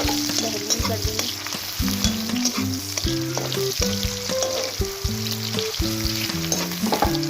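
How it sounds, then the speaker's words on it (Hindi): Onion frying in oil in a kadai, a dense steady sizzle with stirring throughout, under background music. "कढ़ाई में तेल डालेंगे, उसके बाद जो है ना प्याज डालेंगे, एक अदद प्याज।"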